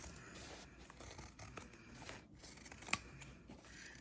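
Scissors trimming excess fabric from the edge of a handmade junk journal cover, with soft repeated snips and rustling cloth, close by, and one sharper cut near the end.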